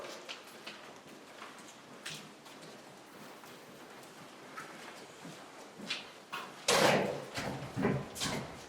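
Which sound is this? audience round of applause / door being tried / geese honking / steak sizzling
door being tried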